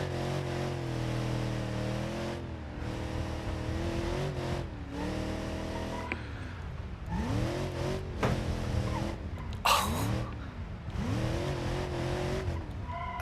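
A car on square wheels in BeamNG.Drive revs and strains, its engine droning and rising in pitch while rhythmic thumps and scraping tire squeals break in, with a sharp screech near the end and no voices.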